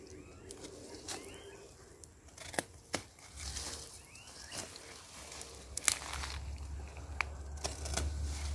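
Callaloo plants being cut at harvest on an organic farm in Jamaica, giving a run of crisp snipping and tearing cuts at an uneven pace, close by, with rustling leaves between them and no talking.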